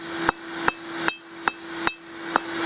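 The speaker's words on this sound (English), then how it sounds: "we're going to grab this little machinist hammer" A small machinist hammer strikes forged metal while tapering a spoon, six sharp ringing blows at an even, unhurried rhythm, clear and close with no talking.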